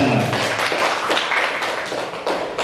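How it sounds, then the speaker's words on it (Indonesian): Small audience applause at a presentation, brisk hand claps in quick succession, moderately close, tapering slightly over a few seconds. "Kita tepuk tangan untuk kita semua."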